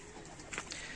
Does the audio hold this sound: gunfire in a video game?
no